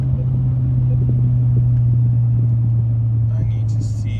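Steady, loud car engine drone while driving and downshifting through a roundabout, a constant low rumble with a brief higher whine near the end and no clear talk over it.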